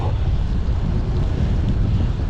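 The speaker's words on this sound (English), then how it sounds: "Headwind and minor gradient." Strong headwind roars and buffets over a cyclist on a road ride up a gentle gradient, a loud, steady low rush with no break.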